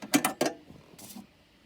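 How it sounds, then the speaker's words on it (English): A rotisserie fork clicks and locks into an Instant Vortex air fryer oven, giving three quick sharp metallic clacks followed by a softer rattle, close and clear. "you're going to use this red lever and you're going to push it to the right as you push the fork back and lock it in"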